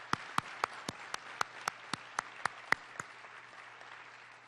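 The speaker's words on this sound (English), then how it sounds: "Let's give them another round of applause." About a dozen sparse, evenly spaced claps from a small audience at a city council meeting, sharp and close, fading out after a few seconds.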